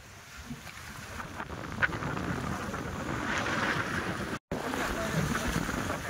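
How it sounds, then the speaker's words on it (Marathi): Strong wind roars steadily through trees outdoors as a continuous, loud blustery rush buffeting the microphone, with one brief dropout partway through. "बघा तुम्हाला हवाचा आवाज असेल मित्रांनो"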